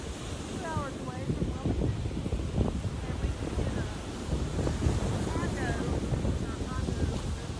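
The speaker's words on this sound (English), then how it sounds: "match your breath with the sound of the waves" Steady rush of ocean surf with wind buffeting the microphone, waves breaking continuously at moderate loudness.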